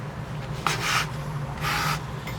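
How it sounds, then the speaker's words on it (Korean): Leather lace is pulled through the lacing holes of a first baseman's mitt, two short, soft rubbing swishes heard close up against quiet room noise, with no talking. "다시 밑에 구멍과 위에 구멍과 웹의 구멍과 위에 구멍 같이 엮어서 통과를 시켜주시면 되겠습니다"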